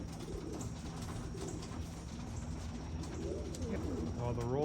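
Racing pigeons cooing in a loft, soft low repeated coos layered over a steady background hum, fairly close and gentle.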